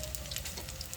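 Bora fritters frying in hot oil, a close steady sizzle with fine crackling bursts throughout.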